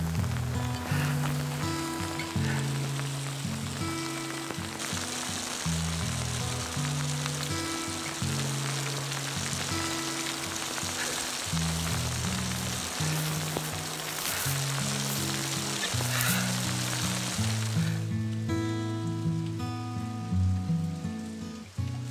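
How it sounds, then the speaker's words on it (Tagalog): Steady rain falls throughout with a dense, even patter, while soft music-like tones run underneath. "Umuulan pa!"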